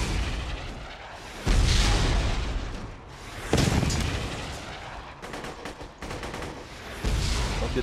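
Gunfire in Borderlands 2 crackles in several loud bursts of rapid shots and booms, separated by quieter stretches of rumbling battle noise.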